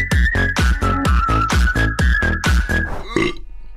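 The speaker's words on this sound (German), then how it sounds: "Beim Rülps kam Käse wieder hoch in meinem Mund." A long, loud, croaking burp rolls on for about three seconds with a strongly pulsing rhythm, close up and alone, then breaks off into a brief rough exhale.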